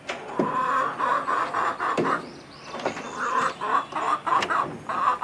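A backyard chicken clucks and squawks close by in a run of rapid, repeated calls with short sharp bursts.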